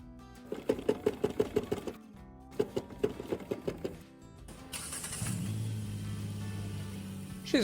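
A car in a repair shop with a starting issue cranks in two rapid bursts of rhythmic chugging, then catches and settles into a steady, moderately loud idle with a slight rise at the end.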